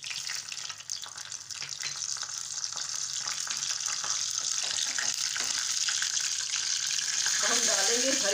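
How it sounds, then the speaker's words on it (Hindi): Mustard seeds hit hot oil in a tadka pan on a gas stove for dhokla tempering, giving a steady, hissing sizzle that builds and holds throughout, with faint crackles and no talking. "ऑयल गरम हो गया, इसमें डाल देंगे राई।"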